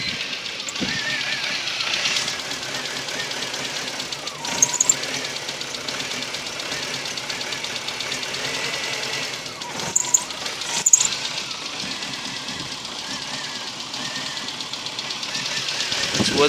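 A Volkswagen Golf or Polo engine with MP9 fuel injection, over-fuelling, idles steadily with a low, rough hum, broken by a few brief louder knocks, with the MAP sensor plugged in.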